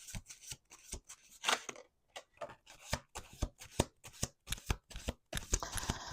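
A tarot deck being shuffled by hand up close, with a quick series of crisp riffle-and-flutter bursts separated by short pauses, no voices.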